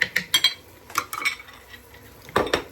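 A spoon stirs brown sugar and pepper into a baked bean mixture in a pot, with irregular clinks and scrapes of metal against the pan, close and clear, with no talking.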